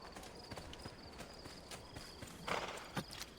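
Horse hooves clip-clop at a steady walking rhythm in Assassin's Creed 2, a quiet run of soft, evenly spaced impacts with a slightly louder cluster of steps near the end.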